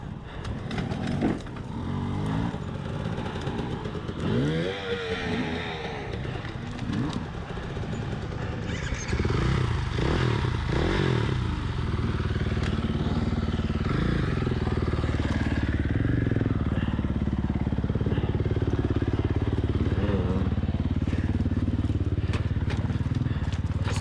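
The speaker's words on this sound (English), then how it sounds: "See, I'm not the only one throwing my bike down cliffs." Dirt bike descending rocky cliffs in a Moab hard enduro race, its engine revving and straining continuously at close range, with rattling rocks and clattering over the rough terrain.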